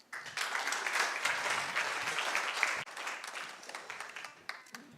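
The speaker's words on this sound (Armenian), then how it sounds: "այս միաբան ծափերը" Church congregation applauding together at a Christmas service, a dense, steady wash of many hands clapping that stays loud throughout, with a brief dip near the middle before resuming.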